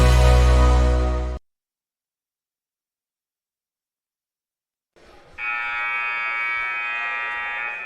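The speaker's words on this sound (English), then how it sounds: "You're back to hear the buzzer as this game is getting ready." A loud electronic buzzer sounds in a high school gym before a junior varsity boys basketball game, a steady harsh tone lasting over a second that cuts off abruptly, followed by silence and then a sustained tonal buzz.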